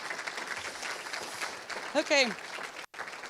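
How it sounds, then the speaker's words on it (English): Audience applause at a professional association's annual conference in Copenhagen, a dense wash of clapping under and around a brief spoken word, with a short gap near the end. "A round of applause for my dear colleagues."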